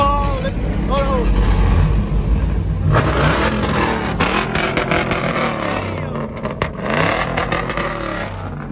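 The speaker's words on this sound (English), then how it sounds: "Let me hear the muffler." A car's engine and muffler exhaust revving at a city takeover car meet, a loud, sustained roar with crowd voices and talk over it throughout.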